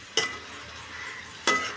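Sun-dried lentil vadiyalu drop into hot oil for a curry, two loud sizzling bursts a second or so apart, each crackle fading into a steady low frying hiss.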